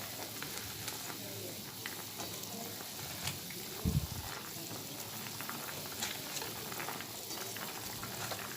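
Bata fish slide into a simmering potato curry in a pan with a brief soft plop, then a gentle steady bubbling and crackling sizzle continues underneath.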